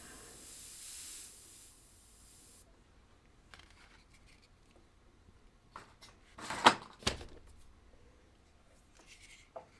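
A Gaahleri GHAD-39 airbrush spraying gives a soft, even hiss for a couple of seconds, then falls mostly quiet, broken by short spurts and a louder burst of hissing and clatter.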